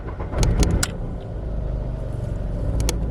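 A car engine with a faulty camshaft position sensor (code P0342) cranks and catches roughly, with a few sharp clicks over a steady low rumble that settles into an uneven idle.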